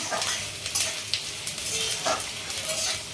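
Grated coconut fries in a pan with panch phoron and cumin seeds, giving a continuous close sizzle broken by light stirring scrapes and spoon taps, with no talking.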